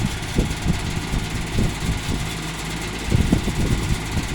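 A vintage Dominion model 2066 box fan runs steadily with a low motor hum, its loose non-original clamp adding an uneven rattle that clatters in irregular bursts, close and moderately loud.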